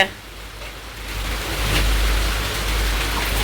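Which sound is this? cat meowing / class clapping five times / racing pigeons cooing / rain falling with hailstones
rain falling with hailstones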